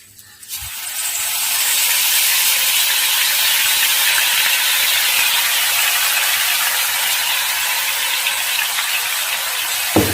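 Ground herb paste dropped into hot oil in a pan for a hair-growth remedy, setting off a loud, steady hiss of sizzling that swells within the first second and holds unbroken to the end, with no talking.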